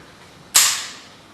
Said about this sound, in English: if I press the trigger then they open and release the shot